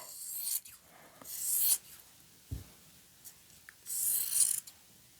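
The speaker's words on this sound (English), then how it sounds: "I'm going to cut over to this side seam and make sure I stop where the side seam is" Scissors cutting through a shirt along its side seam, heard as a few quiet, separate bursts of crisp snipping with gaps of near-silence between them.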